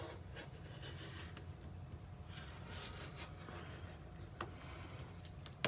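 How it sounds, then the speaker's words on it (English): A red cutting blade runs along a template track through paper cardstock, producing a close, continuous scratchy rasping with small clicks and a sharp tap at the end. "I'll bring in my red cutting blade, and I'm just going to cut from the inside track with my red"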